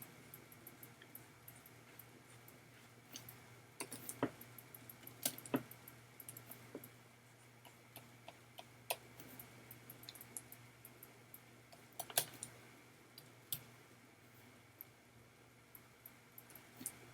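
Keys tapped on a computer keyboard in a quiet room, coming in irregular bursts of soft clicks with short pauses between them, close by and fairly faint.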